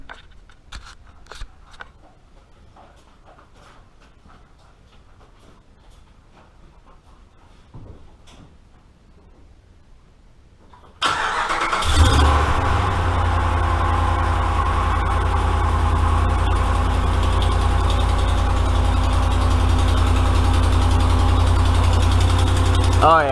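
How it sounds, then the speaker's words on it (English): A 5.7 HEMI engine with a broken-bolt exhaust manifold leak starts up after quiet shuffling in a garage and then idles loudly and steadily, with a rapid ticking leak riding over the low rumble. "So I'm kind of suspecting that it may have an exhaust manifold leak"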